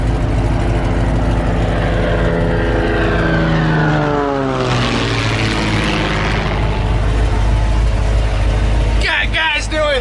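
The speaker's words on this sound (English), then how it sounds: "Got guys doing airplane tricks over here too." Loud propeller airplanes performing stunt maneuvers overhead near an off-road trail, a strong droning engine tone that sweeps in pitch as the aircraft pass and turn, with vehicle engine noise underneath.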